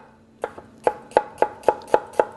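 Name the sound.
knife finely slicing fresh shallots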